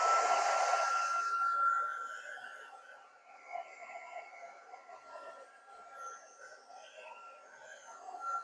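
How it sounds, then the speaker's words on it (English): Heat gun blowing on wet paper in a mixed-media craft session, a steady whooshing hiss that is loud for about two seconds, then fades to a faint, uneven background airflow. "if you don't like the sound of the heat gun"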